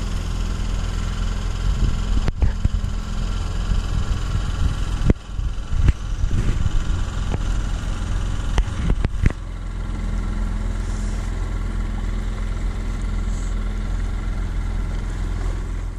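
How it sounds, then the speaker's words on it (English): A boat's low engine idles steadily, a deep continuous drone with a few knocks and thumps early on, then smooth and even. "the engine's only just ticking over"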